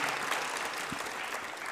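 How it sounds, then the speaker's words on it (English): Conference audience at a EuroPython 2022 lightning talks session applauds steadily for a short stretch, a dense, even wash of many hands clapping with no speech over it. "you should clap for him, not for me"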